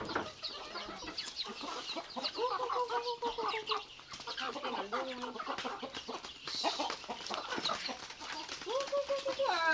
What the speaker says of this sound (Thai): ตัวไก่ก็เลี้ยงหลายเนาะ